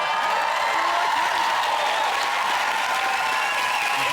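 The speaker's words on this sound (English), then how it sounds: "It's no good cheering." A studio audience at a TV chat show breaks into loud, sustained applause mixed with cheering and whoops, a dense steady clapping roar throughout.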